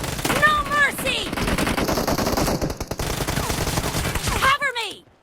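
Rapid UZI gunfire in the mobile shooter PUBG Mobile, sounding as loud, dense automatic bursts nearly throughout, mixed with voiced game callouts and music chirps at the start and end.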